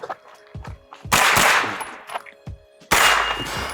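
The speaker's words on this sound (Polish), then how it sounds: "strzały, dwa strzały" Two loud gunshots crack out about two seconds apart at a shooting range, each with a sharp echoing tail, between quieter metallic clicks and handling noises.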